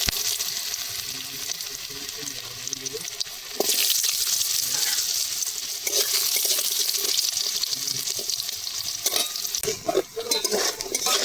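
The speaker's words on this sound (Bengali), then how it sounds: "আলুগুলো আগে ভেজে নেব।" Cut potatoes fry in hot oil in a wok that was just used to fry fish. A loud, continuous sizzle is broken by scraping stirs, and the hiss surges brighter partway through. No speech.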